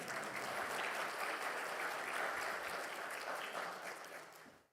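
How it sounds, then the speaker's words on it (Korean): Congregation applauding during a Sunday church worship service, a steady, dense wash of clapping that holds evenly for several seconds before tapering off at the end. "박수를 한번 주셔야죠."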